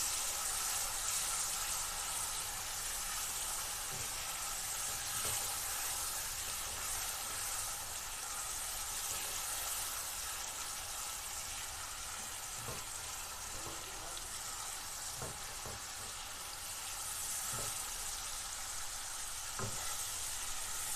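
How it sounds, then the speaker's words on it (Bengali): Onion paste fries in hot oil in a pan for a Bengali katla fish kalia: a loud, continuous, close sizzle runs throughout, with occasional soft clicks from stirring. "পেঁয়াজ বাটাগুলো দিয়ে দিলাম এগুলো দেওয়ার পরে একটু ভালো করে কষিয়ে নিতে হবে"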